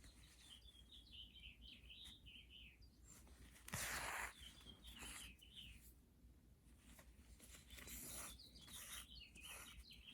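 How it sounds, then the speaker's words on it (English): Small birds chirp and twitter outdoors around backyard bird feeders, with bright, repeated calls over a steady wind hiss and one brief louder rustling burst midway. "I love listening to the birds."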